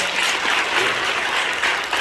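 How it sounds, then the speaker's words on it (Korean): A church seminar audience applauds in a steady, dense clap for a couple of seconds, filling the room at an even level without voices over it. "다시 한번 박수로 대신합니다"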